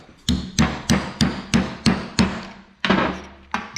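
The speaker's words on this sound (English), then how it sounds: "Just cut it with a chisel." Hammer strikes on a chisel cut off a part of a Cat 740 dump truck hoist cylinder: about ten sharp, evenly spaced metallic blows ring close and loud, with a brief pause before the last few.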